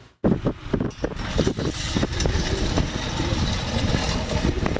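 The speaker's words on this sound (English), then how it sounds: "The sound of this road closure sign being removed from the pavement was music to the ears of those living and working in Latah Valley" A road closure sign is dragged and lifted off the pavement on a Latah Valley street, giving a few scraping, clattering knocks near the start over a steady rumble of idling traffic and engine noise.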